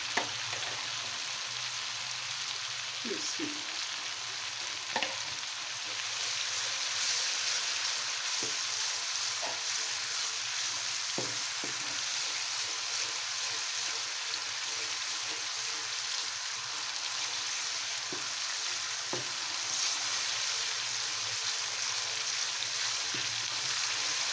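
Masoor dal masala sizzles steadily in hot oil in a pan after yogurt is added, with a constant bright crackle and occasional stirring clicks, close and loud with no talking.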